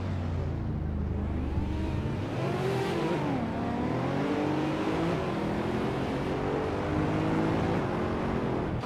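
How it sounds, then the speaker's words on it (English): Racing cars in a video game, with a 2016 Porsche 718 Cayman on pole, accelerate off the start line at Nonstop, engines revving and rising in pitch as they pull away, loud and continuous with no talking. "the race has just kicked off at Nonstop and Hingle McCringleberry is starting on pole with the 2016 Porsche 718 Cayman GT 47"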